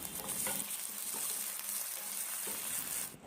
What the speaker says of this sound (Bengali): মাঝারি আছে আলুগুলো আমি হালকা ফ্রাই করে নেব